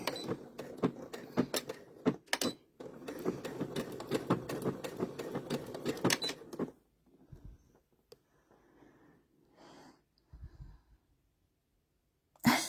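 Domestic sewing machine stitching in a steady, close mechanical whir for several seconds before stopping, followed by quieter handling clicks and a brief sound at the end.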